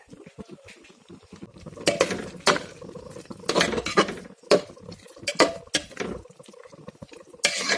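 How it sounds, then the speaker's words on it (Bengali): Fried soybean chunks are stirred into khichuri in a pressure cooker pot, with repeated scraping and clanking of a metal spoon against the pot in uneven bursts over a low background. "এখন আমি ভেজে রাখা সয়াবিনগুলো মিলিয়ে দেব"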